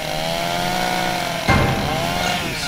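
A chainsaw from the video game Puzzle Agent drones steadily with a wavering engine pitch, loud and close, with a sharper surge midway through as the motor revs or bites.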